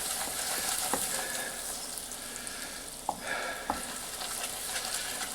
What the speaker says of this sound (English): Keep stirring it until it's all combined.